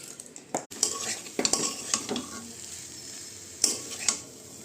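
Frying food stirred in a pan with a long spatula, scraping strokes and metal clinks over a steady sizzle, close and without speech.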